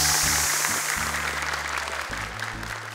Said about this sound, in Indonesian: Boleh sekali lagi tepuk tangan untuk mereka berempat.